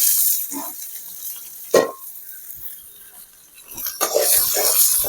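Garlic, green chili and onion sautéing in a pan give off a soft sizzle, with a sharp clank of a spoon against the pan and stirring scrapes near the end.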